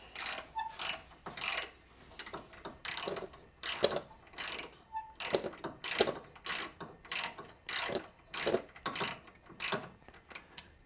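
Socket ratchet fitted with a 5/32 inch bit loosening a bolt on a laser X-rail, giving rapid, close clicking bursts in a steady repeated rhythm of short strokes with brief gaps.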